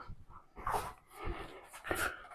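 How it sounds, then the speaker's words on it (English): A small puppy named Charles making soft dog noises nearby, a few short whimpering, panting huffs in quick succession, fairly quiet and with no talking. "Look, that's little puppy Charles."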